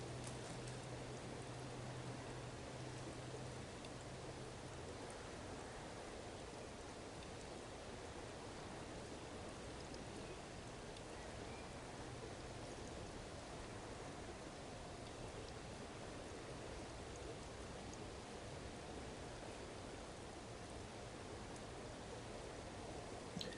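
A shallow river running very low after weeks without rain, the River Aire, gives a steady, broadband wash of flowing water that stays even and continuous throughout, with no voices.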